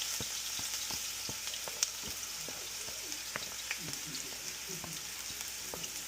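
Garlic fries in hot avocado oil in a pan, a soft continuous sizzle with scattered small pops and crackles, close but fairly quiet, with no voices over it.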